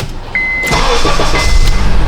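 A Honda CR-V engine cranks and catches, then runs with a steady, fairly loud idle hum; a thin electronic beep tone sounds briefly near the start.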